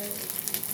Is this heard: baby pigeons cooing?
no